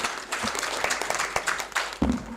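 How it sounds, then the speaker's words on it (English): A conference audience applauds at the close of a session, a dense patter of many hands clapping at moderate loudness and holding steady throughout. "please give them a big round of applause for such an enriching session"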